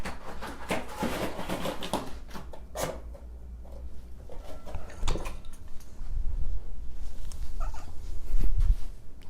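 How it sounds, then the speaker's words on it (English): A cat makes soft purring and short meows up close, mixed with clattering of dishes or utensils in a household room. "kitty cat."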